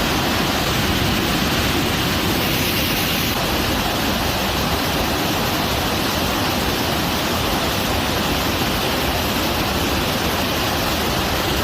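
Suruli waterfall in the Western Ghats hills of Theni district, swollen after heavy rain, roars as a loud, continuous, dense rush of falling water with no voices.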